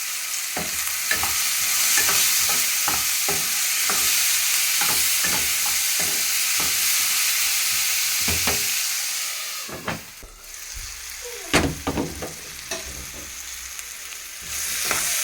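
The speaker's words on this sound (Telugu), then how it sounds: "ఉల్లిపాయలు అయితే బాగా వేగినాయి వంకాయ" Onions, tomatoes and brinjal frying in a pan, a constant loud sizzle broken by repeated sharp scraping strokes of a spoon stirring, with a brief lull and a few louder clatters near the end.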